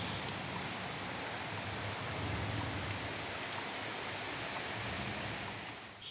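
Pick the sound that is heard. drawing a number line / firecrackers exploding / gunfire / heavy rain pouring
heavy rain pouring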